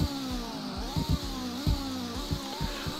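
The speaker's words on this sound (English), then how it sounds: "And here's the noise of the engine." A 2016 McLaren car engine in the Roblox game Greenville Wisconsin runs with a loud, steady harmonic drone, its pitch rising and dipping in repeated sweeps, heard alone and close with no talking.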